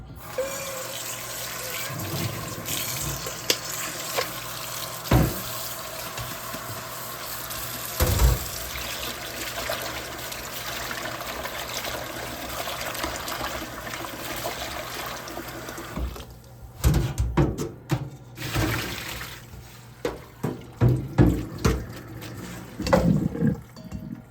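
Tap water runs into a sink over strained ginger being washed by hand, a steady stream with splashing, sloshing and handling noises that grow busier toward the end, no talk.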